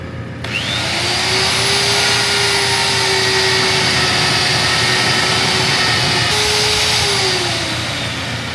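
A steady, loud mechanical whine of a powered hole punch running continuously as it punches through steel, with a sustained tone that dips near the end.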